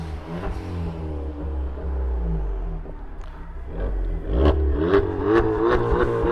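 A Volkswagen Jetta engine with an open exhaust revs up in several rising bursts, rumbling and crackling loudly nearby, with sharp pops as the revs climb.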